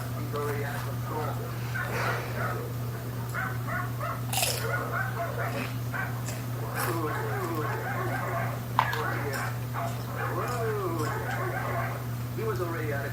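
Dogs barking and whimpering inside a house, scattered short yelps and barks mixed under ongoing talk, with a steady low hum beneath.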